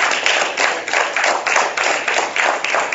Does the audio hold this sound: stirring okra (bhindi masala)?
no